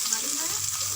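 Ginger, garlic and onion paste frying in hot oil gives a steady, close hiss of sizzling that holds evenly through the short moment without pause.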